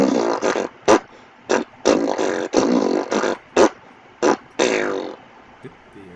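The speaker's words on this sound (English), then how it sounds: "and then through buzz lips, it would sound like this." Buzzing-lip didgeridoo phrases played in a rhythmic tune: a series of short, loud, raspy blasts with a few longer sustained drones between them, close up and with no talking.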